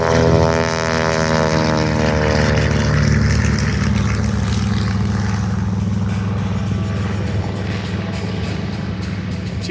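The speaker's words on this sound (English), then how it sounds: "TBM Adventure on takeoff roll" A Grumman TBM Avenger, a massive single-engine propeller plane, roars on its takeoff roll at an airshow in Midland, Texas, its deep throbbing engine drone steady and loud, pitch shifting slightly as it speeds away.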